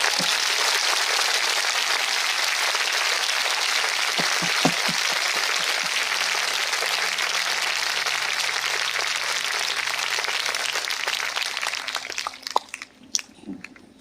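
A big congregation at a church gathering claps in continuous, dense applause for God, a steady roar of many hands that thins out after about twelve seconds into a few scattered claps and soft noises.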